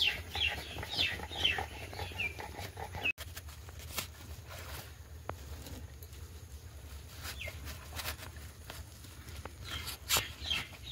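Chickens and small chicks cluck and cheep faintly at a distance on a rainy day at a rural home, scattered calls over a low steady background.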